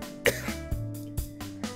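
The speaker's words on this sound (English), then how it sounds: "I was so startled that it sent me into a coughing fit" A startled person breaks into a coughing fit, with a sharp throat-clearing cough followed by three or four softer coughs in quick succession, close and moderately quiet.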